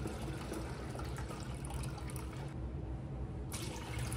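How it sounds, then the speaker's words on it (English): Scuppernong grape juice poured through a funnel into a gallon jug, a continuous faint trickling and gurgling stream of liquid heard alone throughout. "making sure not to overfill the funnel too much, and also knowing where the juice is in the gallon bucket"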